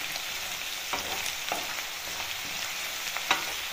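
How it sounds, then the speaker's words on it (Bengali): Onions lightly frying and being stirred in a pan for Bangladeshi duck curry bhuna, a soft continuous sizzle with occasional scraping strokes and one sharper clink, steady and close. "পেঁয়াজগুলোকে হালকা ভাজা ভাজা করব"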